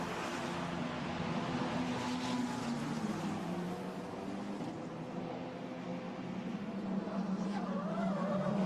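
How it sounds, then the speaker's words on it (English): Formula Renault Eurocup car at a semi-wet Spa-Francorchamps locking its brakes into the bus stop chicane: a continuous high engine drone with a brief skidding squeal of tyres, while a commentator talks faintly underneath. "Big lock-up by Gregoire Saucy down at the bus stop"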